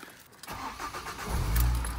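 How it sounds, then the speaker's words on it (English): A Ford Fiesta ST150 engine starting after a thermostat replacement, rising from quiet into a steady, louder low rumble as it catches and settles near the microphone. "we'll start the car and see if anything changes when it's under pressure"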